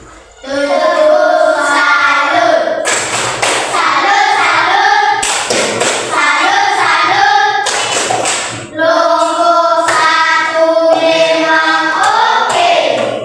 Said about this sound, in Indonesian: kita berikan tepuk salut kepada kelompok 1